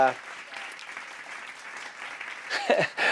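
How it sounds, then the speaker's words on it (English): Audience clapping for an encore fills the stretch as a steady wash of many hands, with a brighter swell near the end. "we get, the lovely audience's encore claps"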